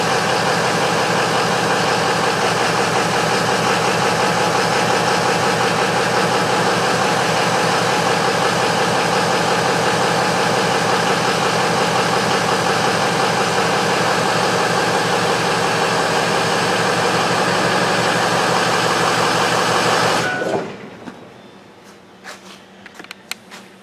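A 2004 Ford F-350 with a 6.0L diesel engine runs close by in a steady, even clatter for about twenty seconds, then shuts off, leaving near silence with a few small clicks.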